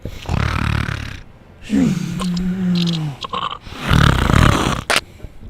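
A voice mimics loud snoring up close: long rattling, rumbling inhales and snorts repeating in slow, heavy cycles.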